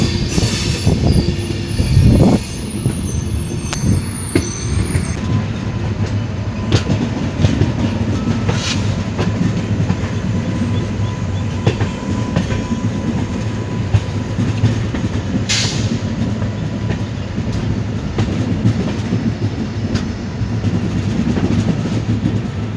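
Train 15655 from Guwahati to Katra rolls along steadily, with a loud continuous rumble of wheels on rail, rhythmic clacks and brief high squeals early on, heard from on board with no talk.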